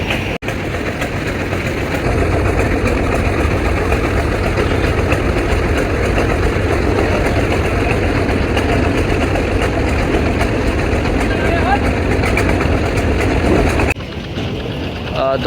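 Engine of the Kirtankhola 10, a Barishal river passenger launch, finishing its reverse-gear manoeuvre at the ghat: a loud, constant, heavy mechanical drone that runs steadily for about fourteen seconds before dropping away.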